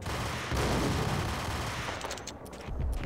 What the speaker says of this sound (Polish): tam już ktoś do mnie strzela